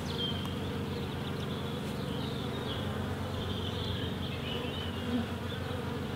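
Honey bees buzz steadily at a beehive in a UK apiary beside oilseed rape, a dense, continuous drone of many insects close by, with no speech.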